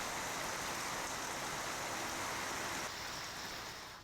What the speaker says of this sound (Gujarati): વાપીમાં ધોધમાર વરસાદ થયો છે